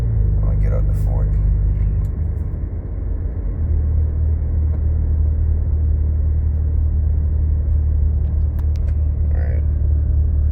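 A car cruising along a road gives a steady, close engine rumble and road roar throughout, with only a slight dip and no clear rising rev.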